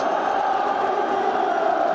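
A dense, loud football stadium crowd at Tottenham Hotspur versus Liverpool in 1985 cheers and bellows in a steady, sustained roar near full time.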